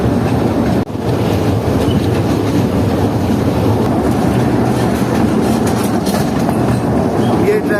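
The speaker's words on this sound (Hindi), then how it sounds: "तो अब यहाँ से ट्रेन एक लेफ्ट टर्न लेने वाली है।" A toy train runs on its track through Changa Manga forest, a steady loud rumble and rattle of wheels and carriages with wind buffeting the microphone throughout.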